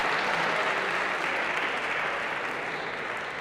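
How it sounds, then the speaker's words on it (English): Audience applause for a quiz team at a cybersecurity lecture, a dense, steady burst of clapping from a full room that holds loud and even for a few seconds. "a round of applause for Team Awesome Sauce"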